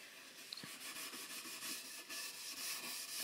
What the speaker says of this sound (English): actually rub that into your timber on the back